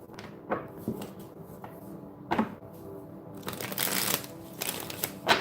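A deck of cards being shuffled close by, with soft riffling bursts and slaps in quick clusters across several seconds, with no talking.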